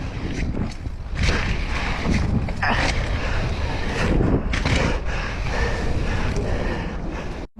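Wind gusts buffet the microphone at a bike park, rumbling and whooshing unevenly in loud bursts over a broad rushing noise throughout.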